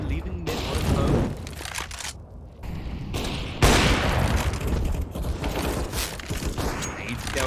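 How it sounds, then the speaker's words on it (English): Grenades burst during a competitive tactical shooter match between army scrim teams, sharp booms and crackling fire piling up in a dense, loud barrage with a standout blast midway, while a commentator talks throughout. "Grenades coming in now."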